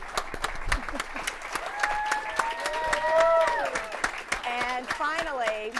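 A crowd claps steadily for several seconds at a South Carolina Republican gubernatorial debate, the applause fairly loud and close, with some voices mixed in.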